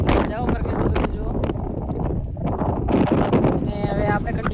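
Strong wind buffets the microphone on a hilltop near the Sankaleshwari Mataji temple in Gujarat, a loud, continuous roar with gusts throughout, while a person talks over it.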